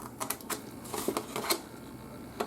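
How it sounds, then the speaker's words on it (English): Scissors cut along score marks on a paper treat box, making faint, close, irregular snipping and crisp paper crackles in short clusters. "We have these two score marks here. Just go ahead and cut all the way up."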